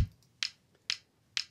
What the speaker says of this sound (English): this one is a 707 kick, which sounds like this normally